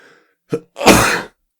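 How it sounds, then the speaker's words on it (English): A single loud, close sneeze: a quick sharp intake followed by a forceful, breathy burst, then silence. "Sneeze."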